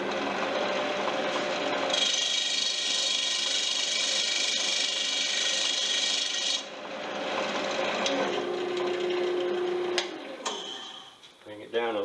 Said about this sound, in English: we're just going to use a little bit of sandpaper